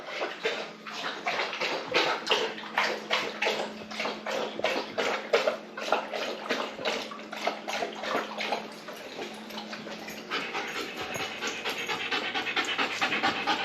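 A German Shepherd pants rapidly and steadily close to the microphone, with the wet, rhythmic lapping of drinking water running through the panting.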